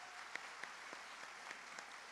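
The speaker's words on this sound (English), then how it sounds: "give them a round of applause, please." Applause from an audience at a college all-employee meeting honoring a group of long-serving staff, fairly faint and distant, with a few sharper individual claps standing out from the steady patter.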